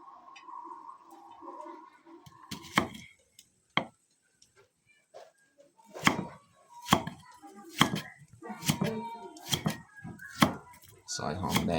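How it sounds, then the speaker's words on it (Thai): Sharp knife chops strike a board in quick irregular bursts as shallots are sliced, close and crisp, with a steady hum and faint clatter in the first seconds. "ซอยหอมแดง"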